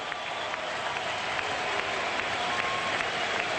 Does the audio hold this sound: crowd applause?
yes